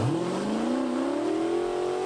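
A street car accelerating hard down a drag strip during a timed run, its engine note climbing steadily and loudly in one continuous pull with no voices over it.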